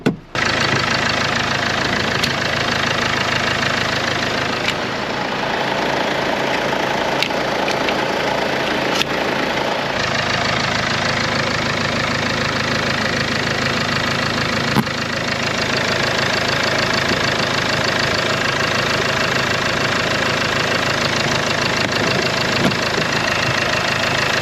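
Land Rover Discovery Sport diesel engine idling after a fuel pump module replacement, a steady close-up clatter with a regular knocking pulse that runs continuously and evenly, no talking.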